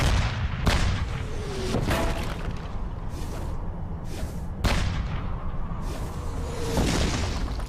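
Russian anti-tank guns fire at Tiger tanks in a battle scene: heavy booming shots every couple of seconds over a dense, roaring wash of battle noise, with whooshing shells passing between the blasts.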